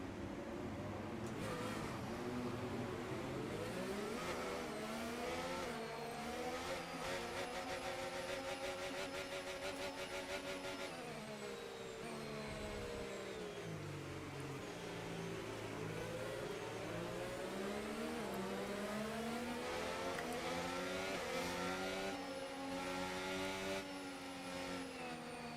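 Racing car engines in the F1 25 video game roar continuously, pitch climbing and falling through gear changes as several cars run together, loud and steady throughout.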